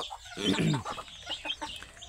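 Domestic country hens cluck close by in a short burst of throaty, rising calls, with a few softer clucks following.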